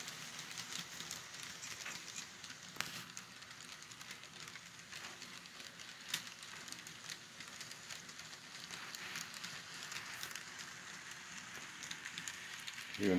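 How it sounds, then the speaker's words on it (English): An N scale model Burlington Northern passenger train from 1970 runs along a layout track, giving a faint, steady rolling rumble with light clicks of wheels over rail joints, continuous and unaccompanied by speech. "Here we catch a 1970 Burlington Northern passenger train"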